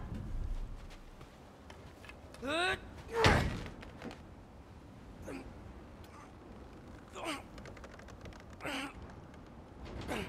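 Frozen door in God of War Ragnarok: a heavy thunk and slam as it is forced, with grunting effort and a gasp, cracking ice bits, then muffled bumps, under quiet talk.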